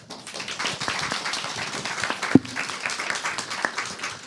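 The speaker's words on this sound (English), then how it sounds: "But I'm applauding." Audience applause at a panel session of a European policy summit, a steady wash of many hands clapping for about four seconds with one sharp louder clap near the middle.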